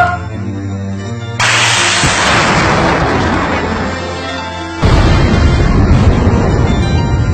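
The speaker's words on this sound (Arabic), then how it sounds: "تمت عملية إطلاق صاروخ اليقين بنجاح ساحق" Launch of a Yaqeen missile at an Iraqi military test site: a loud roaring blast that starts abruptly and sustains as a broad rushing roar, surging louder again partway through, with no talk.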